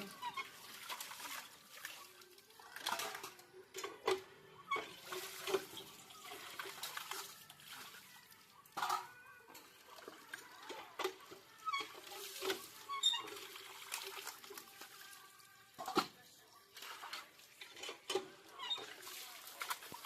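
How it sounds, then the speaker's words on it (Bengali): Plates and bowls being washed: intermittent water splashes, pattering and clinks of dishes at moderate distance, irregular bursts over a faint background. "তা অলরেডি থালাবাটি ধোয়া শেষ হয়ে গেল।"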